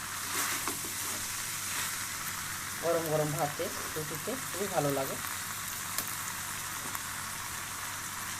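Mixed vegetables and egg frying in a pan give a steady, moderate sizzle throughout, with someone speaking over it in the middle.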